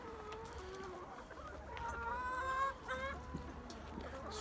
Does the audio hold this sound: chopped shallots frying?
no